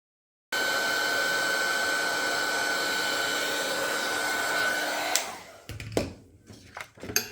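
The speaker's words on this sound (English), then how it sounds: "I just went back in there with the heat gun and I managed to get the parts that hadn't melted first time" A heat gun blasts steadily at close range for about five seconds, melting embossing powder, then cuts off, leaving a few light handling clicks.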